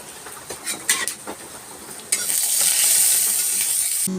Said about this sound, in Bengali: তেল গরম করে জিরে ও শুকনো লঙ্কা ফোড়ন দিলাম